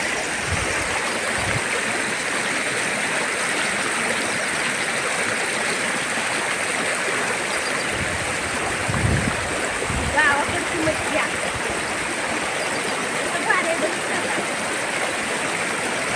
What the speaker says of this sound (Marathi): चाललंय धुणं धुवायचं, या धुवायला मोकळ्या पाण्यात